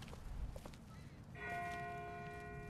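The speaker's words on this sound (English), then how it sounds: "That's not the same bell as before. This one's further off." A distant bell rings in The Walking Dead video game, its sustained tone entering midway and hanging faintly over quiet ambient noise and soft movement.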